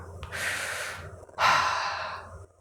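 Two deep inhaled breaths, the second louder and longer, each a rushing airy draw with a short pause between, close to the microphone.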